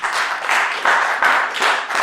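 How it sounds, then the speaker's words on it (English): Church congregation clapping their hands together, loud sustained applause with rhythmic surges, a full room of clapping with no clear speech. "Clap those hands together for the Lord."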